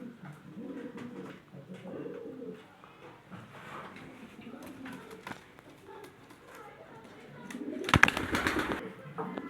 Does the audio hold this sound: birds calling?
yes